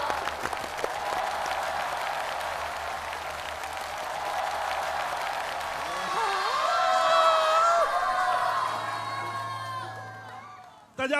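A studio audience applauds to welcome guests, with sustained clapping mixed with cheers and whoops, then a rising tone and voices as the applause dies off near the end.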